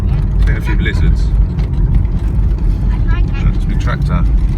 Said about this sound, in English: That's a big tractor.